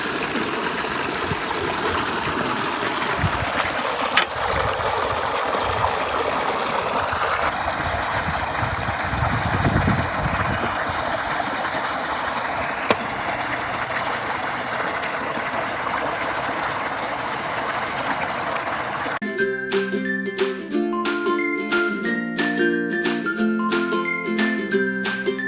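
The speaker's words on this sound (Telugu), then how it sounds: "చికెన్ కడుగుతామా ప్లేట్ మీద." Raw chicken is rinsed with water on a plate, a continuous close trickle and splash with occasional clinks, before tinkling music takes over near the end.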